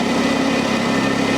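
A commercial carpet cleaning machine's engine idles steadily, a loud constant hum with a droning pitch and no voices.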